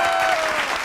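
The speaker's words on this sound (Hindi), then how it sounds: "जरा मिलकर एक बार तालियां बजाओ सर" A short, loud burst of audience applause with many hands clapping together at a live Republic Day talk show.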